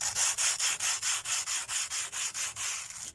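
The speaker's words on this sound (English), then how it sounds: "just sand it a little bit smoother" Dried polyfiller on a duck pond repair is sanded smooth by hand with sandpaper. About a dozen quick, even back-and-forth rasping strokes sound close and loud with no talk.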